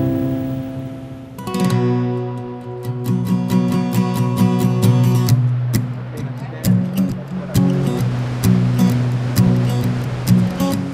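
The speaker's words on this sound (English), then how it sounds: "the upper falls is one of the largest waterfalls east of the Mississippi" Steady roar of rushing water from Tahquamenon Falls' upper falls in northern Michigan fills the scene, broad and continuous, with a few sharp knocks and a low humming tone running underneath.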